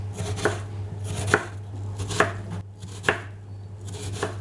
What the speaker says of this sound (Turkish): Kuru soğanlarımızı ay şeklinde kıyıyoruz.